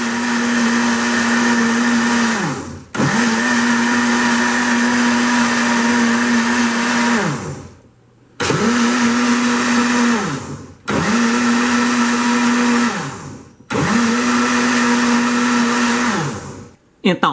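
A kitchen blender switched by a homemade relay runs loud in four bursts, whirring steadily with short silent gaps as it is cut off and restarted, with no speech over it.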